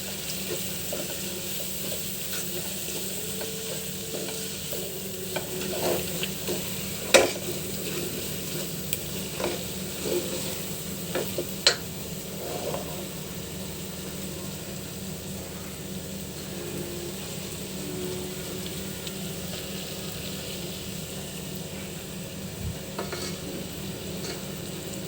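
Whole spices frying in tomato paste for egg biryani: a low continuous sizzle in a pot, with a spoon scraping and stirring, and occasional sharp clinks against the metal over a long, steady stretch.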